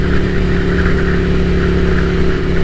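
An air-cooled 803 café racer motorcycle engine runs at a steady, loud, close idle with an even throb and no clear revving, and no voices over it.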